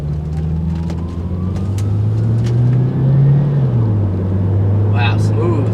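A 2003 Toyota Camry XLE with a four-cylinder engine drives along, its low, steady engine hum and road rumble continuous and fairly loud throughout, rising slightly mid-way, with someone speaking over it.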